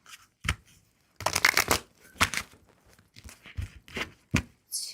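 Tarot cards are shuffled in quick, crisp riffling bursts separated by short pauses, close and clear with no talking over them.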